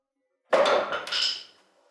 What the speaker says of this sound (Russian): молоток и перышко должны упасть на пол в одно и то же время